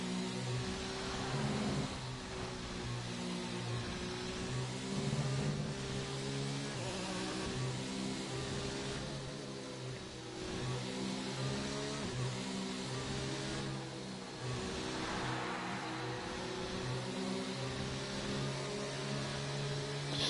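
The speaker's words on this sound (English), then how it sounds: "that pit garage is about to get very busy. A whole stream of cars coming in over there." In a racing video game at Belgium, a stream of race cars enters the pit lane, their engines droning steadily with layered buzzing tones over a continuous wash of track noise.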